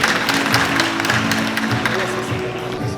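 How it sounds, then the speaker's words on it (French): An audience claps at a school graduation ceremony, dense scattered applause heard at close range throughout, with a voice speaking over it. "Applaudissez."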